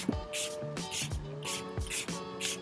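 Setting spray is misted onto a face in four short, close hissing bursts at a steady rhythm, with faint musical tones underneath.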